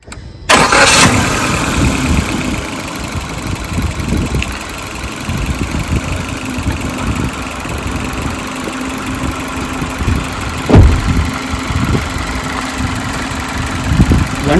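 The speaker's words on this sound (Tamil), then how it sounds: "வண்டி இப்போ ஆன் ஆயிடுச்சு. ஸோ இன்ஜின் சவுண்ட் பாருங்க." A three-cylinder compact car engine cranks and catches, then settles into a loud, close, steady idle with an uneven throb, running alone without talk.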